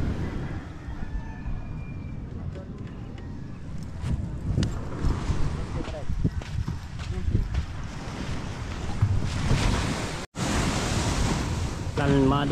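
Calm sea waves wash onto a beach near a high bank with a boat pulled up, a steady broad rush and gentle surf under gusty wind buffeting the microphone, with no talking.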